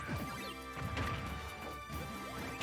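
Heavy impact hits and crashes from a smash attack in Super Smash Bros. Ultimate, played in an online tournament match, several loud thwacks over busy game music and effects.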